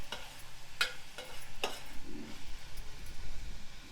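Multimillet upma with turmeric being stirred in a pan: faint scraping and a couple of sharp utensil clicks over a low, steady frying hiss.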